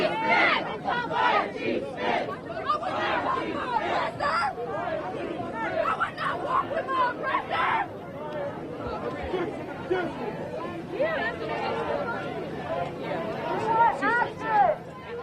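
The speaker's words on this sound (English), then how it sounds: "you were just hearing the crowd yelling" A protest crowd yelling a chant at a live plaza rally, many voices shouting together in rising and falling waves, loud and close, with chatter mixed in.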